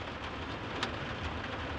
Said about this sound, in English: It is downpouring, guys.